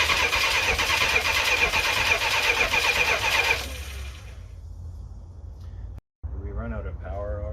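A Dodge 400 big block engine turning over on a stand after twenty years, loud steady starter cranking that stops abruptly, followed by quieter background and people talking.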